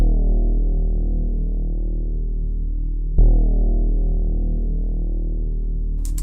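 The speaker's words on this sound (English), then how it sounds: "Then I just added a bass from one of my absolute favorite" A deep synthesized bass from the Substance bass plugin plays two long sustained notes, the second struck about halfway through. Each note is loud and slowly decaying, with a faint upper click near the end and no voices.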